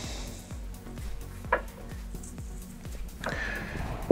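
A fork mixes quiche dough in a bowl, making regular scraping strokes about every half second, close and fairly loud, with a brief clink near the middle and no talking.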